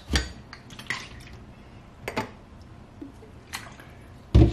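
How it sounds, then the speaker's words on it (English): Lemon juice being added to thick, finished homemade apple butter in a pot, heard as a few sharp clinks of a spoon or utensil against the cookware with faint wet sounds between them, close by and with no talking. "So I'm going to add about a tablespoon of lemon juice"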